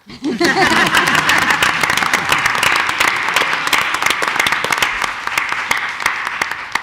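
Applause rises at a school board meeting as a mock trial state championship team member is recognized, a sustained crowd of claps with sharp individual hand smacks standing out over nearly seven seconds.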